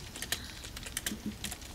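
Hard, forceful typing on a computer keyboard, a quick uneven burst of sharp key clacks up close with no talk.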